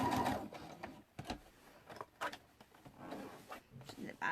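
A sewing machine stitches a tabbed cushion in short, uneven bursts of mechanical whirring, with a person talking quietly over it nearby.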